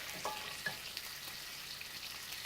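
Sausage fries in a pan with a faint, soft sizzle and a couple of light pops near the start, heard at a distance in a quiet kitchen.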